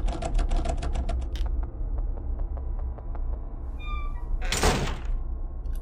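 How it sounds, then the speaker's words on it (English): A locked door rattles in the horror game Pocket Mirror, making a quick run of clattering knocks followed by a heavy thunk a few seconds later. It is fairly loud and close, with no talking. "This door won't do me anything either."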